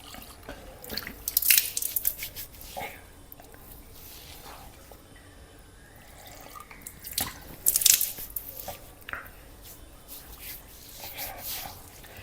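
Water splashing and dripping as the face is rubbed and rinsed during wudu, with two louder bursts of splashing between quieter trickles and drips at close range.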